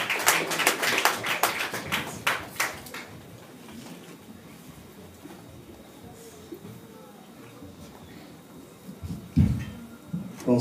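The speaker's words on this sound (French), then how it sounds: "Let's clap for the Lord." A church congregation claps for the Lord at a pastor's surprise 60th birthday party. Several seconds of brisk, rhythmic group clapping fade out into murmuring and a voice over the room.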